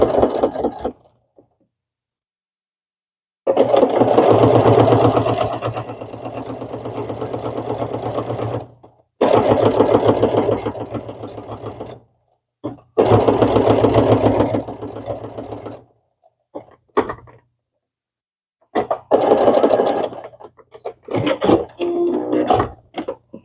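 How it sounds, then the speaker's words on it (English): Sewing machine stitching a quilted Christmas pot holder, running in several loud bursts of a few seconds each with short pauses between, the motor hum and rapid needle rhythm alone with no talk. "And now we're going to sew all the way."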